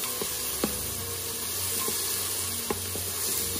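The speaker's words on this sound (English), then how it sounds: "now going to add in some garlic, about a tablespoon of it. Let that saute with the onions." Garlic and onions sautéing in an Instant Pot, heard as a steady, close hiss of sizzling with a few faint clicks and taps of a stirring utensil throughout.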